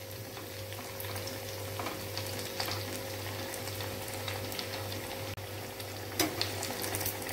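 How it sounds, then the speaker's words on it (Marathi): Crispy cutlets fry in a pan with a steady, soft sizzle and crackle of hot oil, quiet and close throughout, with a few light clicks near the end and no talking. "दोन्ही साइडने गोल्डन कलर येईपर्यंत असं फ्राय करून घ्यायचे आहेत।"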